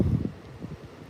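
Wind buffets the microphone on a beach in short, uneven low gusts, fairly quiet and without speech.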